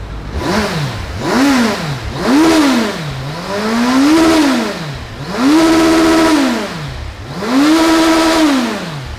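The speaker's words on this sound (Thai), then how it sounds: "เดี๋ยวเรามาฟังเสียงเครื่องยนต์กันครับ" A 2015 Kawasaki Versys 1000 motorcycle engine revs up and down repeatedly, five or six smooth rising-and-falling throttle blips, loud and close with a steady idle between.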